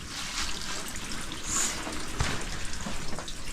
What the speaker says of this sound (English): It's just running out of the rock.